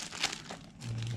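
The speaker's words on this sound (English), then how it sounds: "peroxide in there, and then just move it around the bag." Plastic bag holding peroxide being shifted around by hand, giving soft, close crinkling rustles that stay quiet over a brief moment.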